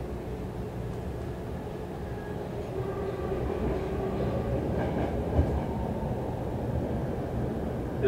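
A BART train at the airport station rumbles low and steady, with mechanical rolling noise and faint clicks that swell gently, under a broad hiss of the station, with no voices heard.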